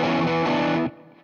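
A distorted electric guitar plays a riff, a loud, dense burst of sustained notes lasting under a second before cutting off abruptly.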